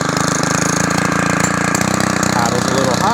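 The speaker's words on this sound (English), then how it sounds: "it's idling a little high from factory" A Stihl FS90R string trimmer engine idles a little high, giving a loud, continuous buzzing rattle that carries throughout with a slight rise toward the end.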